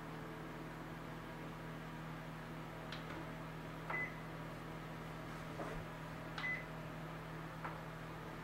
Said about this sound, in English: I set the timer on about 18 minutes.